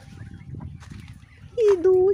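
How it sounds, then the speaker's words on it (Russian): Hens kept in a backyard yard rustle softly nearby, then one bird gives a loud, drawn-out call and a second sustained note near the end, standing clear above low scratching and murmuring. "Там гробастаются курочки."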